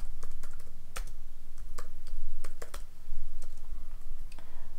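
Steady typing on a computer keyboard while entering Python code for a simple area calculator, with irregular clusters of crisp key clicks over a low background hum and no speech.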